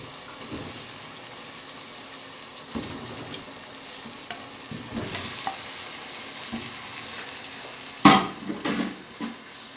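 Chicken pieces go into a pot of sizzling masala, giving a steady frying hiss with stirring, then a sudden sharp splash and crackle as the meat hits the hot oil, followed by scraping of the pot.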